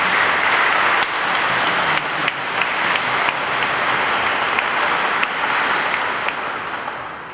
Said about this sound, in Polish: Także brawa dla was, drodzy pielgrzymi.